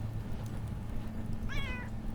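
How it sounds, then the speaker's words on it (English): A cat meows once in the video game Underrail, a short clear meow heard over a dense, steady ambient game drone. "Cat!"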